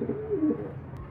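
Pigeons coo in a pigeon loft, a soft low warbling coo close by over a steady background hum, with a faint tick near the end.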